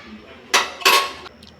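Metal pot clattering as boiled chow mein is lifted off the stove, two sharp clanks close together followed by faint metallic taps.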